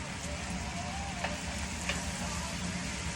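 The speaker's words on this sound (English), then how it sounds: "So I'm stirring these up real good." Sausages sizzle and crackle in a hot pan as they are stirred, a steady close frying hiss with a couple of sharp scrapes of the utensil, no talking.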